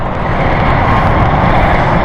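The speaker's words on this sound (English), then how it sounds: "just taxiing to the runway, is the Glasgow flight" A City Flyer airliner taxiing toward the runway in stormy weather, a steady loud engine roar and rumble held constant, close and unbroken for the whole stretch.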